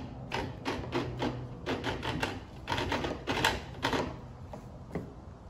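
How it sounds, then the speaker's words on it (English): The gear on a Milwaukee M18 string trimmer head catching as the spool is turned by hand, a quiet close series of irregular ratcheting clicks and taps in small clusters. "That's the gear is catching as I'm rotating it by hand down here."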